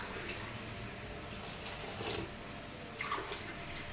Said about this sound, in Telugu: దాంతో 4 గ్లాసులు నీళ్ళు పోయాలండి.